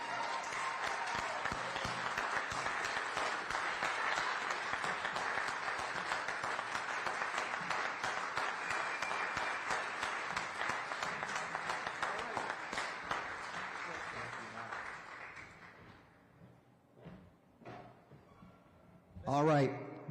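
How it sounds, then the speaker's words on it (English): A graduation ceremony crowd at Peabody Learning Academy applauds the class of 2022, with dense sustained clapping filling about fifteen seconds before fading into scattered claps and a brief voice near the end. "Let's give them a round of applause."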